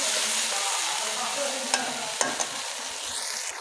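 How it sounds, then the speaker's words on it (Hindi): Garlic, ginger, tomato and green chilli paste fries in a pan with a steady, close sizzle, broken by a few sharp clicks of stirring, with no talking. "इसे हम 2 से 3 मिनट तक अच्छे से भूनेंगे।"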